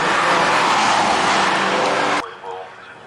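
A BMW 116 Trophy Cup race car roars at full throttle around Brands Hatch, a loud continuous engine and road noise that cuts off abruptly to a quieter hum after two seconds.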